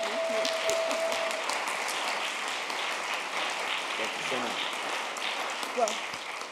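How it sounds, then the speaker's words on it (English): An audience at a community event applauds, a steady, dense patter of many hands clapping throughout, with brief voices and a small exclamation surfacing near the end. "give her a big round of applause"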